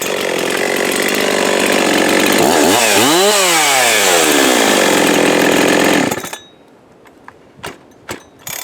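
A Husqvarna 372XP chainsaw fitted with a Husqvarna 268 pop-up piston and an aftermarket carburetor runs loud and close, revving up and down once mid-run before cutting off abruptly, followed by a few faint clicks and knocks.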